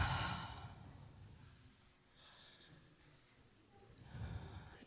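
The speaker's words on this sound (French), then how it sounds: "Et prendre conscience de notre respiration." A group breathes together during a relaxation exercise, a deep sighing exhale at the start, a quiet lull, then another swell of audible breaths near the end.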